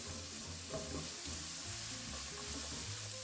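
Italian sausage with garlic sizzles steadily in a single pan, a continuous close frying hiss broken by the scrape and clatter of a spoon stirring through the pieces.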